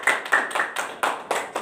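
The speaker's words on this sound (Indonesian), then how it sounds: "Tepuk tangan dulu buat Hilda." A small group in a classroom claps in a quick, slightly uneven rhythm of about seven sharp claps, close and bright with no talking.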